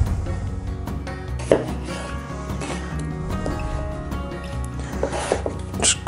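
A knife quartering potatoes for a pheasant and partridge stew, with several close cuts and knocks on a board in an uneven rhythm among kitchen clatter.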